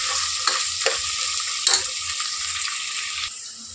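Oil sizzles steadily in a pan while ingredients for tomato bath fry, with a few sharp clinks and scrapes of stirring cutting through the continuous hiss.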